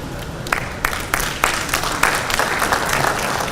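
An audience at a National Judicial Institute capacity-building event applauds, a steady wash of clapping from many hands with a few sharper claps standing out, loud and close throughout.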